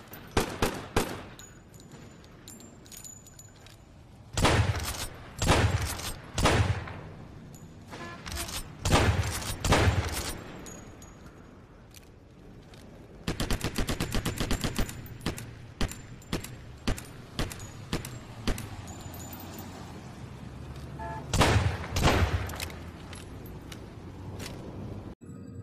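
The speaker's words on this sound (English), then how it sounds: "Slow-mo Weapons Fire by Rob." Slow-motion weapons fire in a Unity-made game, with repeated bursts of stretched, booming shots and rattling volleys separated by quieter gaps, plus a longer dense stretch of rapid fire in the middle.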